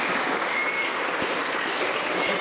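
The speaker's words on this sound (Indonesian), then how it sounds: "Semuanya tepuk tangan untuk kelompok ketiga." Applause from an audience at a public examination of Islamic hadith studies by boarding school students, a dense, steady patter of clapping that fills the whole short stretch without any talking.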